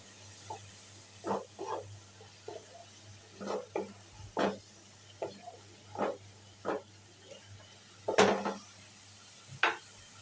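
Spoon stirring chole with turmeric, cumin and chaat masala as the spices are fried in a pan; irregular scrapes and soft sizzling bursts, close by, no talking.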